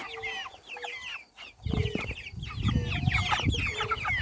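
Chickens cluck and chatter at a feeding trough, a busy overlapping flock close by, with a human voice and some handling noise joining partway through.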